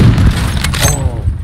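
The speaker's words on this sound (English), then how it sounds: "Oh, I got a grenade kill on him." A grenade explodes in the Roblox shooter Phantom Forces, a loud booming blast that fills the short moment with a dense low rumble and no talking over it.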